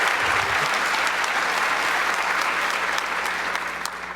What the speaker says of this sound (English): Can we please have a huge round of applause for those engineers?